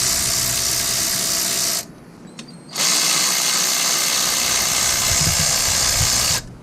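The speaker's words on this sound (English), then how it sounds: "I just loosened the 6 13mm bolts" Power tool driving out the six 13mm bolts on the oil filter housing of a BMW E46 M3, a loud steady whir running nearly throughout with a short pause partway, up close and with no talking.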